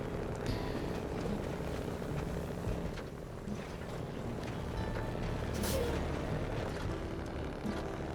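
A slow truck driving along a road in SnowRunner, a steady low engine drone with rumbling texture throughout, with no talk over it.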